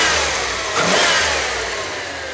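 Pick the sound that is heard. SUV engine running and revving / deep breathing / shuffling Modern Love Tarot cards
SUV engine running and revving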